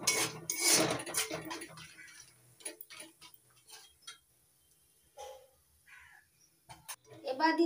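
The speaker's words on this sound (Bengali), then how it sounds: "মশলাটা ভালো করে কষিয়ে নিচ্ছি" Turmeric and chili powder are stir-fried in a pan, with intermittent scraping and clinking of a spatula against the metal and faint sizzling between the louder stirring bursts.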